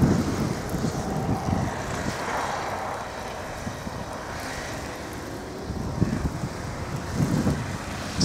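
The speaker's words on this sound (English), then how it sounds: "It's a blizzard, folks." Blizzard wind gusts roar over the microphone beside a road in Alpena, Michigan, a steady broadband rush that swells and eases, with faint traffic beneath and no talk.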